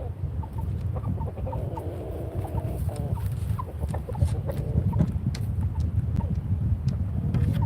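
Farm chickens cluck and murmur continuously nearby while wind rumbles across the microphone, with scattered soft clucks rising over the steady background.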